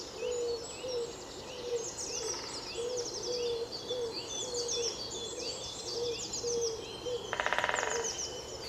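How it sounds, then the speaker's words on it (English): A great spotted woodpecker drums on a tree in a short, rapid burst of knocks near the end, while other birds sing steadily throughout in the background. "some footage and audio of a woodpecker"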